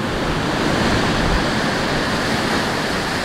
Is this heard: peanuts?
no